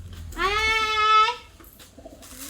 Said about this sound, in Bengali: পায়রাগুলো শুধু রান্নাঘরের দিকে যাচ্ছে